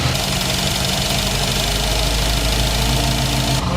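An Early Bronco V8 with Holley Sniper EFI idling close up, a loud, steady rumbling engine with a constant ticking texture and no change in pace throughout.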